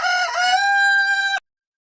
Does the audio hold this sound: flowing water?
no